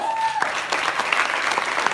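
A crowd at a team awards session gives a round of applause, steady dense clapping that starts after a brief tone and carries on for the whole two seconds, moderately loud and close.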